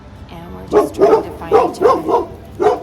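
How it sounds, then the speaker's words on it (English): Several dogs bark in a quick run of about six loud yelps and woofs close by, with a person talking over them. "Excuse the dogs."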